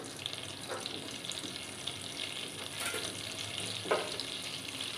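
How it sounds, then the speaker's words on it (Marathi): Cumin seeds crackle in hot butter and oil for Mumbai street-style pav bhaji, giving a steady soft sizzle with faint pops throughout and no talk. "जिरे छान या बटर आणि तेलामध्ये फुललं गेलं पाहिजे व्यवस्थित।"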